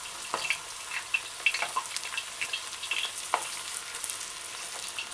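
Plantain chips frying in hot oil, a dense crackling sizzle with scattered bright pops and small splashes as slices are dropped in one by one, no voices.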